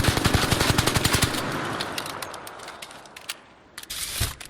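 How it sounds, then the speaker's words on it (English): The Stitcher SMG in ARC Raiders fires a rapid, loud burst of close shots. The rhythm breaks into scattered single shots and short bursts, and the firing echoes as it trails off. "The Stitcher is an SMG that is perfect for the person who want to go up close and deep into the action"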